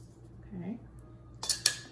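A utensil mixes thick corn fritter batter in a bowl: quiet at first, then a quick burst of bright clinks and scrapes against the bowl near the end.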